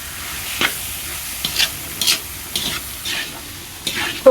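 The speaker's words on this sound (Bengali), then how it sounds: "খুব সুন্দর করে বুট মিক্স করা হচ্ছে, যাতে প্রত্যেকটা বুটের গায়ে মশলাটা ঢুকে যায়।" Boiled chickpeas and spiced potatoes are stirred in a frying pan over a soft sizzle, each stroke of the spoon a short scraping sound at an uneven rhythm, heard close up with no talking.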